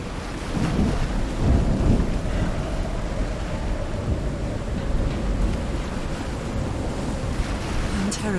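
A thunderstorm at sea on a reef-lined beach in the game Call of the Sea, with rolling surf and low thunder rumbles over a constant wash of wind and rain, loud and enveloping.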